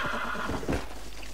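A horse being broken in the Red Dead Redemption video game lets out a loud, close whinny over a constant game soundscape, with no voices.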